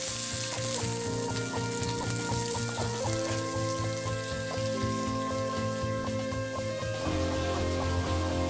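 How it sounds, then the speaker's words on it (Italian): Beef fillet searing in a hot pan, a steady broadband sizzle that holds close and loud for the whole stretch, with faint tonal hum and small shifts in texture as the meat cooks. "Una volta che il nostro filetto ha cotto per alcuni minuti da una parte"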